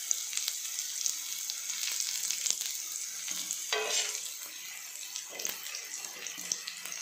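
Raw plantain slices frying in a pan, already turned over, crackle with a bright, continuous sizzle close by. Faint watery bursts and light stirring rise and fall over the seven seconds, with no speech.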